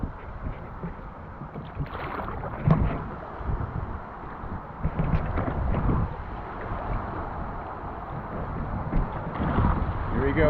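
River rapids rush under a raft carrying people and dogs, a loud, turbulent roar of churning water and splashes buffeting close by, mixed with wind on the microphone and voices calling out.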